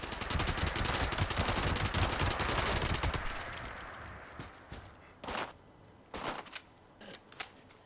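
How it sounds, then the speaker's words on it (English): Thompson submachine gun with a 75-round drum firing in Fallout 76, a rapid sustained burst of shots for about three seconds, followed by a few scattered short bursts and clatter. "I love the Thompson in this game,"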